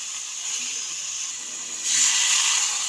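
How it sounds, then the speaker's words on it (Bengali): Mutton goes into a well-cooked spice masala in a hot kadai for mutton curry, and a steady hiss swells into a louder, brighter sizzle near the end, close and continuous, with no talking. "দিয়ে দিচ্ছি মাটন"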